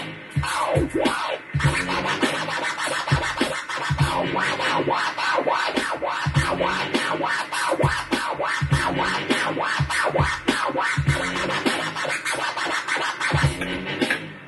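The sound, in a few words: DJ baby scratch on turntable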